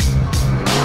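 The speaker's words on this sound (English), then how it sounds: "Come on, you must have a powerful rev." Cartoon police car engine revving in short bursts, a loud continuous low motor growl that surges and drops across three quick pulses with no talk over it.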